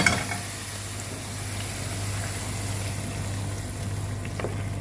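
Tomato chutney fries in a pan with a steady, soft sizzle and faint stirring scrapes, accompanied by a constant low hum, without any talk.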